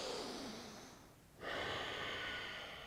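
A long, close breath during a men's yoga hip stretch, with a soft airy rush that fades, pauses briefly, and then returns as a steady exhale.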